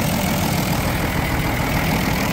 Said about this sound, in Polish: Praca silnika.